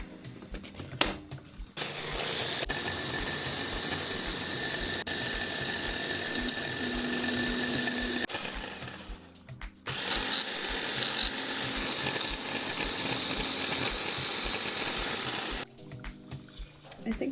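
Sugar grinding for homemade whipped cream: a steady, loud mechanical whir of a blender or grinder runs through most of the stretch, with brief pauses and restarts near the start and end.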